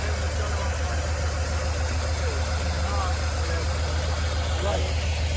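A 1937 Buick Century engine idling after long sitting, a steady low rumble that holds even and unbroken for several seconds, moderately loud and close with a faint hiss above it.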